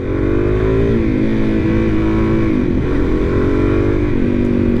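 A 2023 Suzuki DR-Z400SM single-cylinder motorcycle engine drones loudly and continuously on a test ride, its pitch swelling and dipping as the throttle rolls on and off. The onboard sound is close, with no speech.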